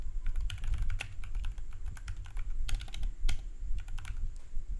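Quick, irregular clatter of keys on a computer keyboard as text is typed into a document, a steady run of close, crisp clicks with no voices.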